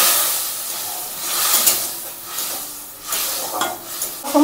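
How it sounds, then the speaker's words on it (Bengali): Masala is stirred and fried with a splash of water in a kadai: a loud, close hissing sizzle with bursts of steam and spatula scrapes rising and falling as it is worked, with no voices. "এবার এর মধ্যে একটুখানি জল দিয়ে জিনিসটাকে ভালো করে একটু কষিয়ে নেবো।"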